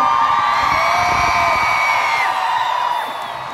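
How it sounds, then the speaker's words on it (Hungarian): Large crowd at a concert in Budapest Park screaming and cheering loudly in a sustained roar, with high shrieks layered throughout and fading slightly toward the end. "itt vagytok-e még esetleg velünk egy nagy sikításra?"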